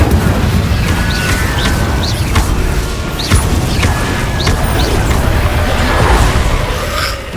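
Repeated Incendio fire spell blasts in Hogwarts Legacy, a run of booming bursts and cracks spread through a dense, steady game soundscape with no talk.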